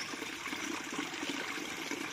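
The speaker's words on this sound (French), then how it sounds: "Mini cascade." A small jungle waterfall on a hike in Koh Samui, Thailand, gives a soft, steady splash and trickle, faint and continuous at a moderate distance, with no talking.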